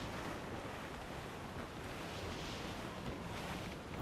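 Wind and rolling sea waves in the pirate video game Assassin's Creed 4 Black Flag, a steady, dense rush of surf and gusting air that stays constant throughout without any voices.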